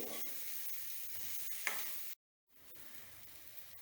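Green chillies frying in a pan for veg dum biryani, a steady close sizzle with light stirring clicks, briefly cutting out before resuming at a lower level.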